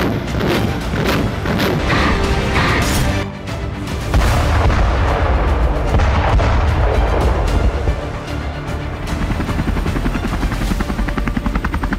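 An artillery bombardment in Ukraine, with shells and bombs exploding in a loud, dense, continuous barrage of booms and heavy rumbling that barely lets up.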